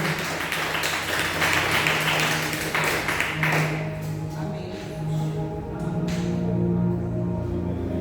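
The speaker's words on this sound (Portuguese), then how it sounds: "Aplauda o Senhor Jesus pelo que Deus fez naquela irmã" Church congregation applauding during a sermon, a dense wash of clapping for a few seconds that thins out and fades, with faint voices and room hum beneath.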